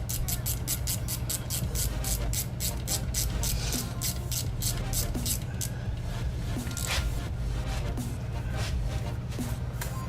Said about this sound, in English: Grab our 14mm little ratchet wrench. Snug them up.